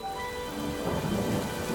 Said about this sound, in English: Peppa and George ran outside to play as the rain started.